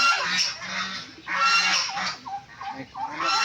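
Several geese honk loudly and repeatedly nearby, their harsh calls overlapping in bursts, with other fowl faintly audible in the background.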